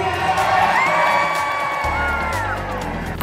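Lively audience cheers and whoops, with children shouting, during a baby crawling race at sea on a Disney Dream cruise; the crowd noise stays steady and fairly loud throughout, with voices rising and falling.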